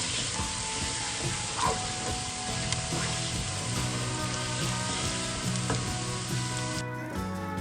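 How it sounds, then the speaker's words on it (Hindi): Onions sizzle and crackle steadily in hot oil, close up, with occasional stirring scrapes before the sizzling suddenly cuts off near the end. "अब मैं प्याज ऐड कर रही हूँ"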